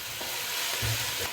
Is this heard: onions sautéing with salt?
yes